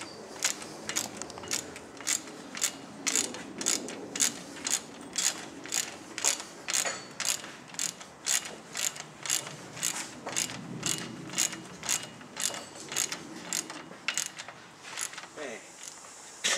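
Ratchet clicking steadily while tightening four brake bracket bolts on a Dana 44 rear axle during a Scout II disc brake conversion, a long run of rapid, evenly spaced metallic clicks, close and clear with brief pauses between strokes.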